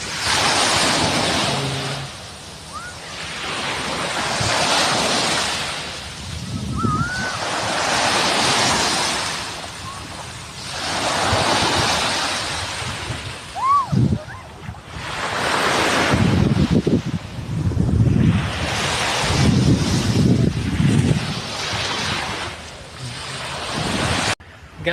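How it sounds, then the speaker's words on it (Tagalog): Strong sea waves surge and break in repeated loud washes at a beach where friends are swimming, with wind buffeting the microphone and occasional voices under the roar. "Malakas yung alon."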